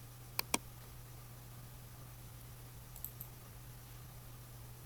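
A computer mouse clicks a start application button: two quick, crisp clicks near the start, then a fainter pair a few seconds later, all over a steady low electrical hum.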